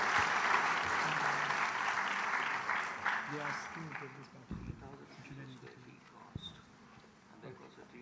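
Applause from an audience at an architecture competition finals swells loudly at first, then thins into scattered claps as a voice begins speaking over it.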